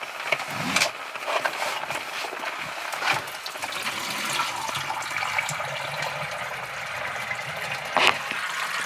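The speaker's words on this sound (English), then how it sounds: "So I'm going to go pour some more down the drain tanks." RV antifreeze is poured from a spouted jug down a holding tank drain during winterizing, a steady close trickle of liquid with a few louder knocks and splashes.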